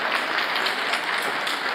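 Steady, dense applause from a large audience at the Scifest Africa 2016 opening gala, continuous and even throughout.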